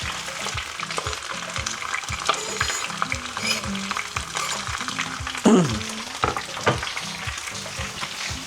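Potatoes fry in a pan with a steady, close sizzle and crackle throughout, broken by scraping stirs and a louder burst of spatter midway.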